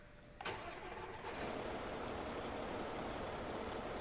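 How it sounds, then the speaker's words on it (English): A heavy haul truck in American Truck Simulator, loaded with a transformer at the Denver airport, starts its engine with a sharp burst that settles into a steady, deep, continuous running drone. "The engine's got the same kind of a little bit lower, meaner tone to it."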